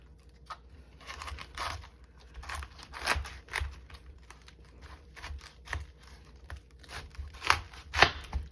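Knife cutting through a firm cabbage at a kitchen counter, a steady run of close crunchy chops and crinkly tearing of stiff leaves, irregular and moderately loud.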